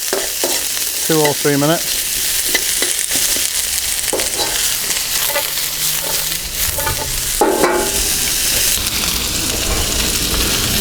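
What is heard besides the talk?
onion frying in a pan for chicken balti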